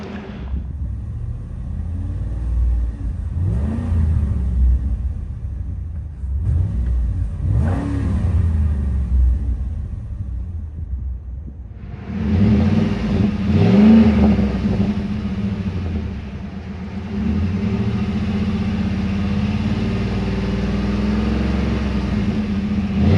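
A 2011 Ford F-150 SuperCrew Harley-Davidson 4x4 pickup revs through large chrome stainless steel dual exhaust tips: several rising and falling revs up close, then a louder, sustained engine roar that settles into a steady rumble, with no talking.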